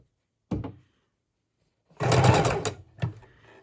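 A sewing machine stitches fabric snippets down in short bursts: a brief whir, a pause, then a longer run of rapid stitching followed by a quick final burst, close and clear.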